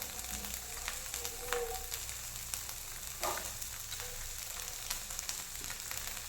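Green peas sizzling and frying in a pan for palak roti with mutter paneer, a soft steady crackle with occasional stirring scrapes and pops.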